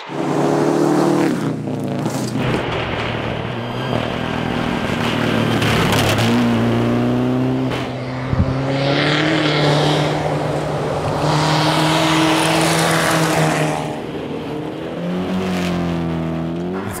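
A rally car at full throttle on a forest rally stage, engine howling steadily with rising and falling revs through gear shifts, loud and close, with gravel and road noise underneath.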